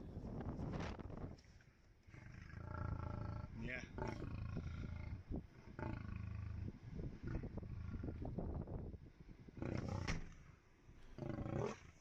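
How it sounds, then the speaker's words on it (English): Lion roaring at a safari jeep that is parked close, a series of deep, loud roars and growls in bursts, with a person speaking briefly. "This lion didn't like how close the safari jeep was."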